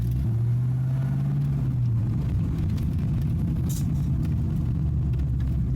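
Ford Fox Body car engine idling steadily up close with a low, continuous rumble and a brief rise in pitch early on, no talk over it.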